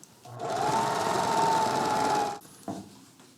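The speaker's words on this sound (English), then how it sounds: "we're going to go and top stitch that flat just like we did on the top panel" A sewing machine runs steadily for about two seconds while top stitching a seam flat on a lightweight 5-panel trail hat, then stops, leaving a brief quiet tail with a small click.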